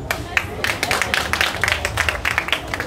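An audience at a public gathering applauds, dense irregular clapping close by and steady for about three seconds, with some voices mixed in.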